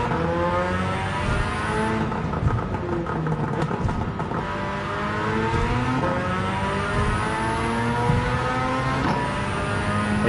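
A race car engine on hard compound tires in Gran Turismo 7 drones loudly and continuously, its pitch rising and falling through gear changes and revs across the whole clip.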